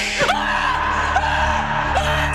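An investigator screams in fear during a ghost investigation, loud strained yelling cries with rising and falling pitch, close and sustained across the moment.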